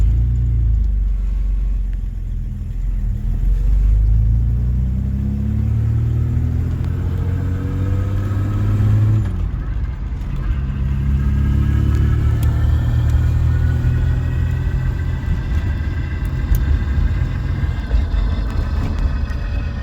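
A Holden Commodore running a rebuilt gearbox accelerates hard from inside the cabin, the engine droning upward in pitch, dropping at a gear change, then climbing again in a strong close rumble.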